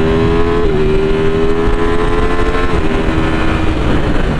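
A 2025 Ducati Streetfighter V4S motorcycle in sport mode, engine droning steadily and loud with a sustained, slightly rising tone throughout, no voices.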